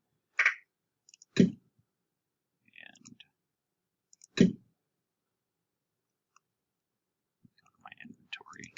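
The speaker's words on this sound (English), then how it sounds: "So we're just going to click here." Computer mouse clicks while navigating an OpenSim virtual world interface: a few sharp, brief clicks spaced over several seconds, fairly close, with soft speech and faint sounds between them.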